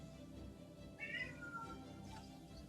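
A cat's single meow, fairly close and brief, over a low background hum during a tabletop role-playing session.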